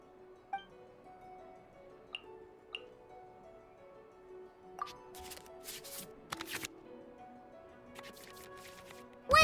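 Cards are shuffled in the Genshin Impact Genius Invocation TCG card game, a quick burst of digital riffling over soft game music with scattered chimes and clicks.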